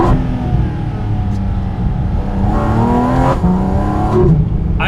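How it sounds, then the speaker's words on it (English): Porsche GT4 RS engine held at a steady loud drone from inside the car, its pitch stepping through several downshifts with brief rising blips, continuous and close throughout with no talking. "Just listen to this. The downshifts."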